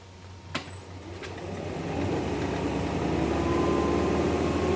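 A wood lathe spins a birch end-grain bowl at roughly 1,200 RPM while its outer side is shaped, giving a steady low motor hum and broadband tool noise that builds in loudness and holds, with a brief tap near the start.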